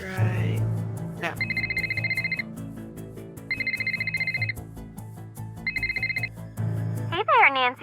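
In the video game Nancy Drew The Deadly Device, a telephone rings in three loud electronic bursts spaced about two seconds apart over a low musical background, then a quick warbling chirp sounds at the end.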